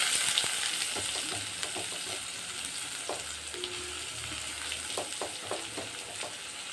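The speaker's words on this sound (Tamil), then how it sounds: "வெங்காயம் போட்டுட்டு நல்லா ஒரு 2 நிமிஷம் வதக்குங்க." Onions frying with crushed garlic and a dried red chili in a pan, a steady soft sizzle with occasional scraping stirs, close and continuous with no talking.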